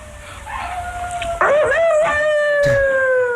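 A seven-week-old Old English Sheepdog puppy howls in long, rising and wavering cries close to the microphone, with several drawn-out howls following one another and a brief yelp partway through.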